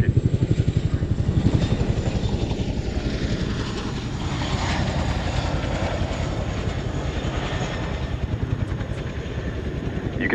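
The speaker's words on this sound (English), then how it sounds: "please turn your eyes to the sky for the 2024 Chinook roll demonstration" A Boeing Chinook helicopter flies a roll display at an airshow, its heavy rotor thump loud and close with a rapid beating rhythm that softens into a broad engine roar.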